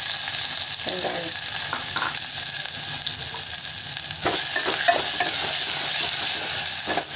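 Onion, garlic and green chili fry in a pan for a sorrel-leaf dal, giving a continuous, close sizzle with occasional scraping stirs.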